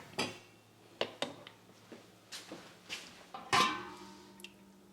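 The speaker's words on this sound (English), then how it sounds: "put all your jars into your canning pot" Glass canning jars are set one by one into a metal canning pot, giving about eight separate clinks and knocks, sharp glassy chinks with short ringing tails, close and clear with no talking.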